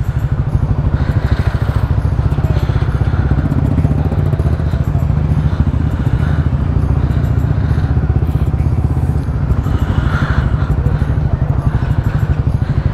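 Motorcycle engine running steadily close by, a loud continuous low chugging throb with slight rattling throughout and no clear talk over it.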